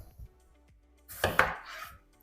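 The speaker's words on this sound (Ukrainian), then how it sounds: "Нарізаю на такі шматочки, щоб гарненько вони увійшли в банку." A couple of sharp, crunchy chopping thuds as a knife cuts a watermelon into pieces, firm and juicy, with quiet knocks before.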